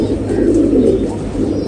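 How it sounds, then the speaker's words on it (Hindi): A large breeding pigeon cooing up close, a loud, continuous low throaty burble across the whole moment. "ये हमारा बड़ा 222 कबूतर"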